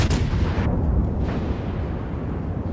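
A naval gun salvo of high-explosive shells in World of Warships, one loud deep boom at the start that rolls off into a long rumbling tail.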